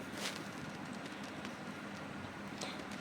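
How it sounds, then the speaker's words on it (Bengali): Palm fruit fritters (tal bora) deep-frying in oil over a medium-low flame give a faint, steady crackling hiss with scattered tiny pops, and no voices. "এই একই রকমভাবে আমি সব বড়াগুলোকে ভেজে নেব একইভাবে"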